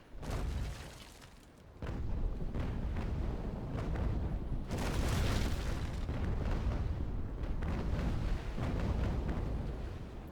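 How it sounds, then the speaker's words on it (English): Loud, rumbling booms of cannon fire in the naval game Naval Action, sustained blasts filling the sound with brief gaps between volleys. "The cannons are rather loud in my ears."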